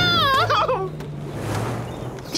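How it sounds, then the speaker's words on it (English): A cartoon bird squawks loudly in a quick, rising and wavering burst, then trails off into background sound. "Oh, that's one stubborn bird!"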